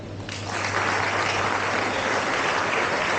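An audience at a school prefects' commissioning and SPM excellence ceremony applauds the masters of ceremonies, a steady, moderately loud wash of many hands clapping that swells after a soft start and continues evenly.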